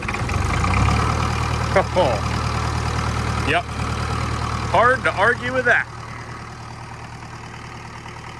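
A cheap engine-driven welder idles with a steady low drone, the engine running smoothly and continuously while a man makes brief remarks over it.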